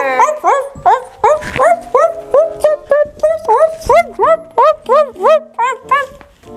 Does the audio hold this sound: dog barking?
yes